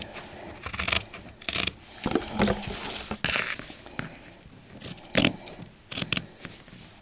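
Scissors snip through fabric along the cutting lines of a paper pattern for a doll dress form, in a run of short, crisp, irregular cuts with brief pauses, close and moderately loud.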